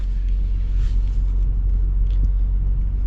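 A 2025 Toyota Sequoia SR5 starts up, settling into a deep, steady low rumble close by, with no talking over it.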